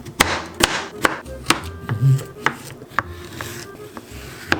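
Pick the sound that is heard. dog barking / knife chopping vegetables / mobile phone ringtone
knife chopping vegetables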